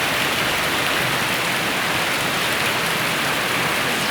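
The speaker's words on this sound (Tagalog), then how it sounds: "Malakas ang ulan." Heavy rain pours steadily and densely, a loud, even hiss of water falling on surfaces without letting up.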